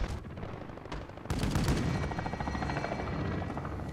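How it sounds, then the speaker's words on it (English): Chopper gunner helicopter in Call of Duty: Modern Warfare, steady rotor thrum with bursts of rapid gunfire, a sudden loud surge partway through, then continuous rattling fire over the helicopter. "The chopper gunner came in."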